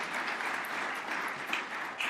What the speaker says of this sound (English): would you keep that applause going for Brad Buchanan, a tremendous leader in co